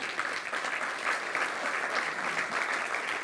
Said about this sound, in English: save your applause for the next thing I'm going to say